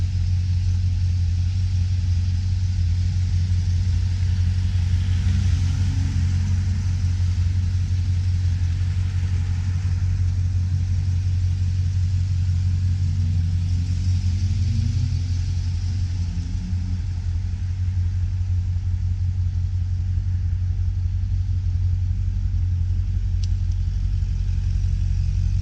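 A Ferrari Testarossa's flat-12 engine rumbles steadily at idle, a deep continuous drone with a couple of faint rising revs, no talking over it.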